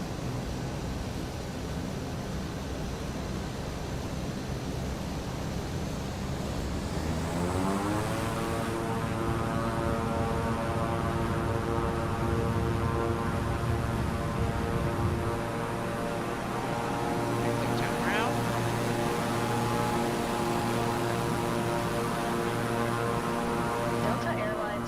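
A Delta airliner departing runway 9 in Microsoft Flight Simulator 2024, the engines spooling up into a loud, steady rising roar with layered tones, and a voice talking over it.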